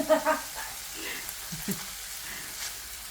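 Chicken livers with a knob of butter sizzle softly in a pan, a low steady crackle with a few brief pops, faint beneath a quiet background.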